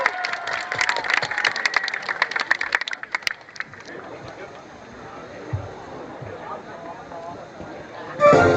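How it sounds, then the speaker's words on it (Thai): Audience applause and cheering at a cheerleading competition opening, dense clapping for about three seconds, then a quieter crowd murmur with scattered noise and a brief louder burst at the end. "ขอเสียงปรบมือดังๆต้อนรับการแข่งขันผู้นำเชียร์ด้วยครับ"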